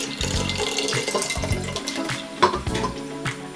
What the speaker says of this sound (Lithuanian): Po to pilame burokėlius.